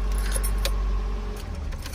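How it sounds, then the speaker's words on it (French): A 1983 Toyota Corona's engine is switched off with the keys, a short close metallic jingle of keys over the low hum of the engine as it drops away. "Je vais éteindre le moteur là"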